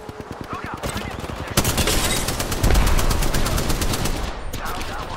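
Rapid automatic gunfire in the shooter Apex Legends, a short burst first, then a long, dense, loud stream of close shots after a brief gap, with a voice talking over it.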